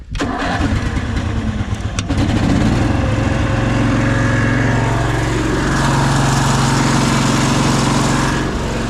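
A Case 1816 skid loader engine, given a little choke, cranks briefly and then catches, rising into a loud, steady running idle close by for the rest of the stretch.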